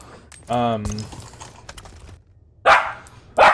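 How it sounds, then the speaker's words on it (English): A dog gives a single short, harmonic bark near the start, followed later by two sharper, noisier bursts, close and fairly loud against a quiet room. "Bailey, why are you barking?"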